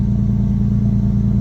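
A race car with 82,000 original miles runs with a loud, steady low engine rumble and a deep harmonic drone throughout, close by and constant with no talking.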